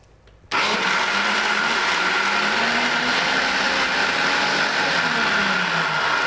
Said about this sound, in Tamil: 5 செகண்ட் வந்துட்டு நான் அரைச்சி எடுத்துக்கிறேன்.